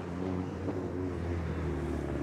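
A car passes by in the street, a steady mid-level engine rumble with a slight rise and fall, heard alone without talk.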